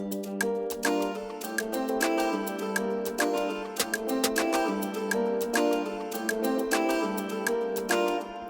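An Afrobeats beat built in FL Studio drives along steadily with a busy percussion loop, a crisp shaker and sharp repeated hits over a warm low layer. The groove is dense, loud and continuous, with no voices.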